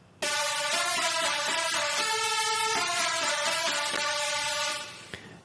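Extra synth lead layer from the drop of an electronic track, a bright, harmonically rich buzzing line playing a stepped melodic phrase, loud and solo, fading out near the end.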